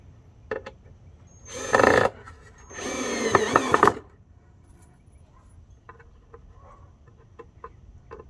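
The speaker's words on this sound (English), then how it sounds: "I'm going to actually be putting the screws just to kind of reinforce the board and hold it in a little bit better" A power drill drives screws into a wooden board for a DIY fishing line spooler, with two close whirring bursts, a short one then a longer one, followed by quiet handling clicks.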